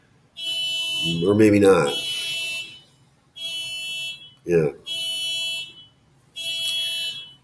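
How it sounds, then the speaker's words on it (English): A car alarm goes off outside in repeated high, harmonic electronic bursts of about a second each, separated by short gaps, with someone talking briefly over it. "We'll just be so used to this car alarm."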